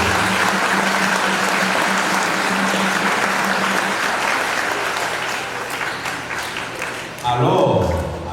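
A church congregation bursts into sustained applause during Mass, steady and dense clapping from a large crowd that slowly thins out, followed by a brief murmur of voices at the end.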